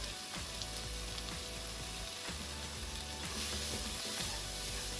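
Onions and plain flour cooking in a pan for French onion soup, a quiet, continuous sizzle and crackle with faint occasional stirring scrapes and no talking.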